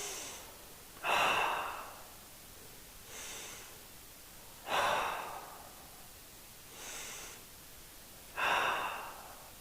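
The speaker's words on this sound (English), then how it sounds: "I'm going to take 3 full breaths here." Slow, deep breathing during a yoga stretch in a veteran and first responder class, three long audible inhales each followed by a softer exhale, close and unhurried with no talking.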